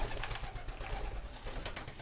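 Modena pigeon, a curly-feathered fancy breed in a loft, giving soft low coos that pulse steadily through the clip at close range, with no talking.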